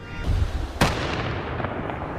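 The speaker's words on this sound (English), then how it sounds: "Each explosion bigger and louder than the last." A single sharp detonation from a controlled explosion set off by the Calgary Police tactical and bomb unit on a city street, preceded by low rumbling, with a decaying boom and echo trailing off outdoors.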